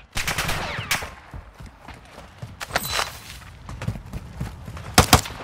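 Bursts of automatic gunfire and single shots crack in Call of Duty Warzone DMZ, some close and loud, others distant, scattered irregularly among footsteps and clatter.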